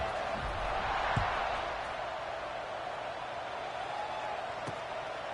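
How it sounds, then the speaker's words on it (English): A college football video game crowd, USC against Kentucky, keeps up a steady broad roar and murmur, swelling slightly early on and then holding constant with a few faint thuds. "this crowd is buzzing after that last score"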